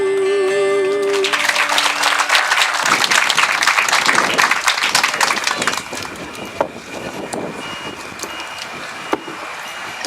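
Audience applause at an outdoor park groundbreaking ceremony, a dense sustained clapping from a crowd that starts after a brief musical tail, continues loud for several seconds, then thins out with scattered claps.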